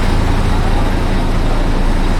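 A bus on a road in Pattaya, Thailand, gives a loud, steady roar of engine and roadway traffic noise close by, continuous throughout.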